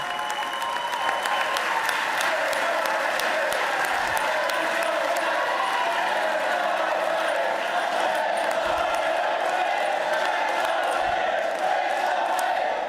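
Sustained applause from state senators during the Pennsylvania governor's budget address fills a large chamber, a steady dense clapping that holds at even loudness throughout with no voices over it.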